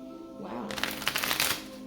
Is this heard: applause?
no